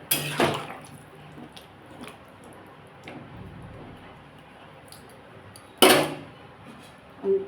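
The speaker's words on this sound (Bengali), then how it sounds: "এবার আমি এতে জল দিয়ে দেবো" Water is poured into fish curry masala that has released its oil, for rohu fish broth with potato and drumsticks; a wet splash and squelch is followed by soft liquid bubbling and a few sharper clatters, close by.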